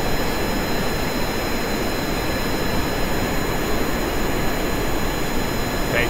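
A jet engine roars loudly and without pause during an aircraft takeoff in the space game Kerbal Space Program, a dense steady rush with a faint high whine on top.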